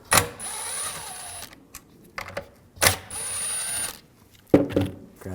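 A socket wrench ratchets on the two T25 map sensor screws of a 2007-2013 BMW 328i 3.0L inline-six engine bay, with bursts of clicking ratchet noise separated by short pauses and a few light metallic handling sounds.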